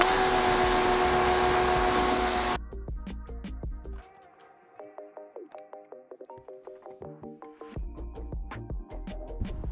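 A bike being rinsed after a wash with Muc-Off Punk Powder: a loud, steady spray of water runs for a few seconds, then gives way to quieter dripping, splashing and rhythmic swishing and rubbing, with no talking.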